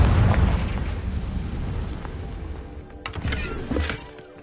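A Confringo fire spell bursts in Hogwarts Legacy: a heavy, rumbling blast that rolls on, then sharper crackling hits near the end, all loud and close with no talking.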